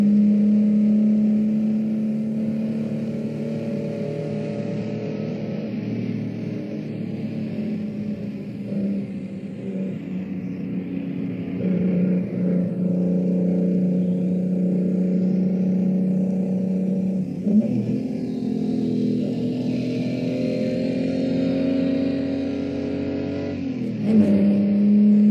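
A race car climbs toward the Caltabatura heights, the highest part of the 1965 Targa Florio mountain road course. Its engine drones loud and steady, with pitch rising and dropping at gear changes, and no one speaks.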